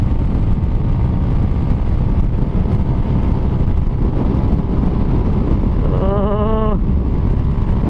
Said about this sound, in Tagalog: Grabe, malakas ang hangin mga bay.